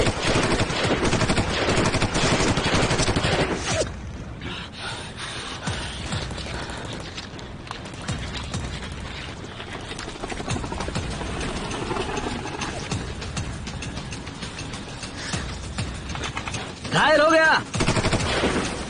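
Bursts of rapid gunfire crackle loudly through a busy, noisy battle scene in the film Battle Earth, with mechanical clatter and a sharp burst near the end.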